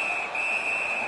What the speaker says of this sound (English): Holds on and gets that whistle.